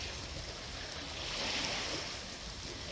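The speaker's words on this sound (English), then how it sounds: "Listen to the lapping of the water." Gentle water lapping against a lake shore, a continuous soft wash with slight swells and no voices.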